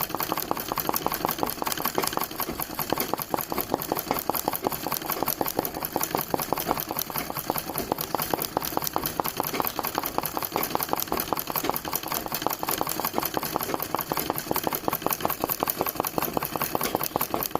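An ordinary sewing machine stitches a running-stitch embroidery flower petal at slow speed. It makes a quiet, even, rapid mechanical clatter that continues steadily throughout, with no voices.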